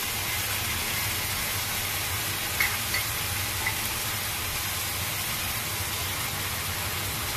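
Onion and cumin paste fries in a pan with a steady, soft, even sizzle and a few faint pops, with no talking over it.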